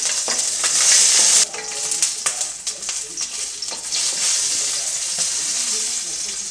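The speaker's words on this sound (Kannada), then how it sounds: "ಇವಾಗ ನಾನು ಅದಕ್ಕೆ ಒಂದು ಸ್ವಲ್ಪ ಹಸಿಮೆಣ್ಸಿನ್ಕಾಯಿಯನ್ನು ಹಾಕ್ಕೊಂಡ್ಬಿಟ್ಟು ಒಂದು ಸ್ವಲ್ಪ ಫ್ರೈ ಮಾಡ್ಕೊಳ್ತೀನಿ" Green chilies fry in oil in a pan for a green tomato chutney, a loud bright sizzle that spikes at first, then settles into steady crackling with spoon taps, no speech.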